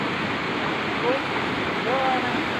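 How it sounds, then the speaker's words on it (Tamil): Steady, broad rush of falling water from a waterfall at a temple in Malaysia, continuous and fairly close, with faint voices underneath. "கீழே நீர்வீழ்ச்சி பாருங்கள்"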